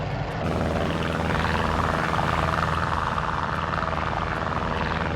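A steady, droning Chipmunk propeller aircraft engine in Microsoft Flight Simulator 2020 hums loudly and continuously, close by, with a thick low rumble and no voices.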